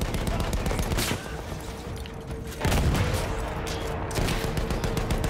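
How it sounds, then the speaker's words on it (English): Sustained machine gun fire in the video game Battlefield 1 forms a loud, dense, continuous rattle of rapid shots with heavy booms, pausing briefly before resuming. "We're gonna mow all these guys down with the machine gun."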